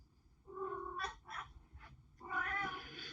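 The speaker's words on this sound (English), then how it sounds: "This cat's crying." A cat cries with a few drawn-out, wavering meows, close but fairly quiet, separated by short pauses, with no talking over it.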